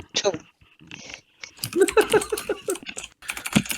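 Clicky computer keyboard typing during a tabletop Dungeons and Dragons session, rapid irregular clacks running close under overlapping conversation.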